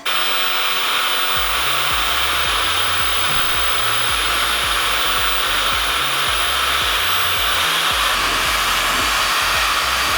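A Dyson Supersonic hair dryer fitted with a diffuser, run on its lowest fan setting, gives a loud, steady, continuous whoosh with a faint high whine, close by and unbroken throughout.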